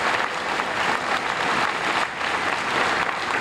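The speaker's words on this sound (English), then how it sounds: "Tom Hucker certainly deserves another great round of applause for doing this" Audience at a town hall on the I-270 and Beltway gives Tom Hucker a steady round of applause, dense sustained clapping filling the room for several seconds without voices.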